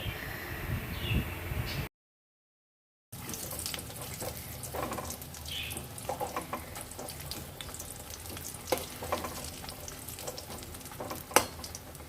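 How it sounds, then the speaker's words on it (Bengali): Banana stem fritters fry in hot oil, a soft crackling sizzle with scattered pops and small clinks, close and fairly quiet, briefly cut to silence near the start before the bubbling resumes. "অপর সাইডটাও ঠিক এইভাবে লাল লাল করে ফ্রাই করে নেব"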